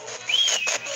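A person whistles at the Molly Stark Sanitarium: one short, fairly faint tone that glides up and then eases down, lasting well under a second.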